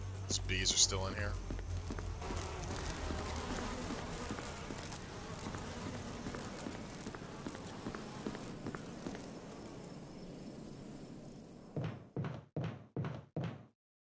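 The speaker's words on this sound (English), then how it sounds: "Bees are still in here." Bees buzzing in the Resident Evil video game, a steady insect drone with game ambience running for about twelve seconds, then cut off, followed by several short sharp knock-like hits.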